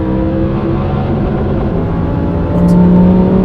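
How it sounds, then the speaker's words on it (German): A Lamborghini Huracán Tecnica with a naturally aspirated 640 PS V10 roars from inside the cabin, a loud sustained engine drone that climbs in pitch as it revs harder near the end. "Ein Saugmotor, 10 Zylinder, 640 PS"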